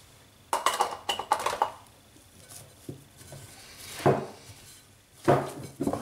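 Butter being worked by hand into brioche dough for a galette des rois, with irregular soft slaps, squelches and knocks against a bowl, some sharp and loud, separated by quieter pauses.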